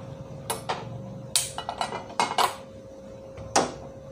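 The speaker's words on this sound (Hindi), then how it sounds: "पैन ले लेती हूँ और उसे ऑन कर देती हूँ।" A metal pan lifted and set down on a kitchen stove, a handful of close, sharp clanks and scrapes spaced over a few seconds against a quiet background hum.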